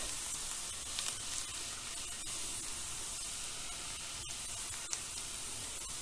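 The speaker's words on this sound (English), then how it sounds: "In goes the chopped garlic." Chopped garlic sizzling in oil in a pan over low heat for a cherry tomato pasta sauce, a dense, even hiss throughout with a few faint clicks, close and without talk.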